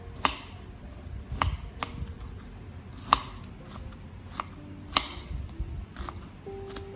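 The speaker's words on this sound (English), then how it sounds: "I slice the ginger into thin strips." A knife slices fresh ginger into thin strips on a cutting board, giving sharp, evenly spaced taps close by, about ten cuts, with no talking.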